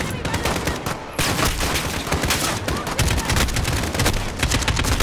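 Heavy sustained gunfire in the Call of Duty: Modern Warfare campaign, overlapping automatic bursts and shots rattling loudly and nearly nonstop.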